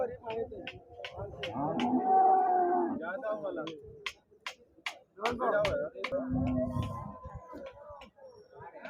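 Cows low with drawn-out moos at a busy cattle market in Husnabad, Siddipet district, Telangana, the calls rising and falling over several seconds amid sharp clicks and people talking nearby.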